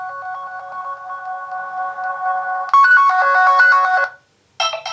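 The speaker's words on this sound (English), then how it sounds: "So there's one ringtone." A Motorola Moto E smartphone plays a ringtone preview: a steady repeating electronic melody that turns louder and brighter partway through, stops, then briefly resumes, loud and close with no talk.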